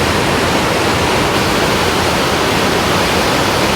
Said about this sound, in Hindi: बाकी आजकल यहाँ नीचे देखिए नदी का पानी